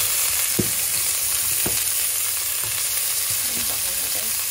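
Onion sizzles in hot oil for pork adobo with pineapple, a constant bright hiss with a few soft utensil taps punctuating it, close and steady.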